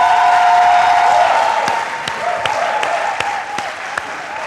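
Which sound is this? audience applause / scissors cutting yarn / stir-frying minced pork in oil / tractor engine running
audience applause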